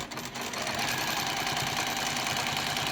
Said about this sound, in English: then stitch 1/8 seam allowance